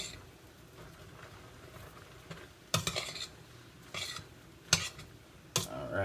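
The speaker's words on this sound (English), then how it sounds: "just keep stirring underneath, getting that spinach in there" Utensil scraping and clinking in a pan as chicken breast, mushrooms and spinach are stirred together, a soft steady sizzle underneath with a few sharper taps against the metal.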